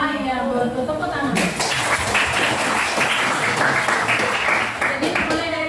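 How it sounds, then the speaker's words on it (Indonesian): A classroom of students claps in unison, a loud, dense patter of hands close by, with children's voices chattering and calling over it. "Tepuk tangan."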